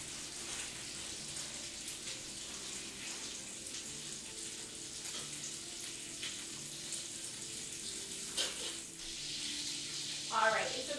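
Bacon from a gammon sizzles steadily in a hot pan, a constant hiss with small pops and kitchen clatter, while a cook speaks over it.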